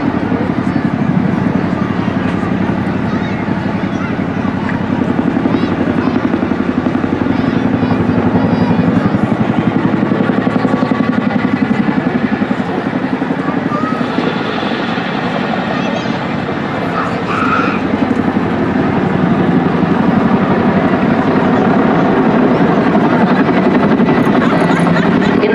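An RAF Chinook helicopter flies at the Torbay Airshow, its loud, steady rotor and engine drone continuing unbroken throughout, with a voice talking over it.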